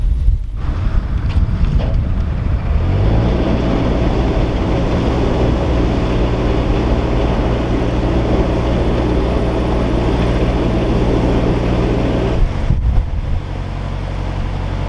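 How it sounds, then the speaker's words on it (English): Strong wind buffets the microphone in a continuous roar aboard a canal boat turning on the Montgomery Canal, with the boat's low engine hum running steadily underneath. "Oh, it's very windy."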